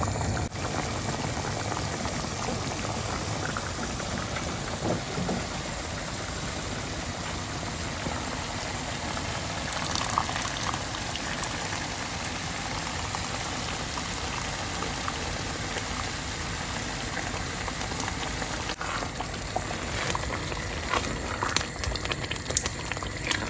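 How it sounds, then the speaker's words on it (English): Gizzard stock bubbling into a simmering spicy sauce in a pot, a steady close boiling hiss with soft liquid gurgles running throughout, no talking. "So I'll go ahead and add our gizzard stock to the sauce."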